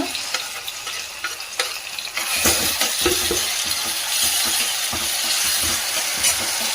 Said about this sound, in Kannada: ಟೊಮೆಟೊ ಹಾಕಿಬಿಟ್ಟು ಚೆನ್ನಾಗಿ ಫ್ರೈ ಮಾಡಬೇಕು